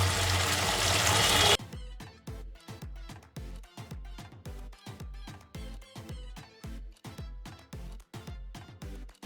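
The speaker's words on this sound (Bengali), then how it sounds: "আর একটু জল দিয়ে দেবো।" Water splashes into a pan of chicken curry in a burst of pouring for about a second and a half, followed by steady repeated bubbling and simmering pops.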